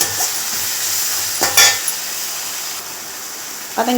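Onions and tomatoes sauté in a pan for a masala dosa filling, a steady hissing sizzle with a couple of sharp stirring scrapes and clinks near the middle and end.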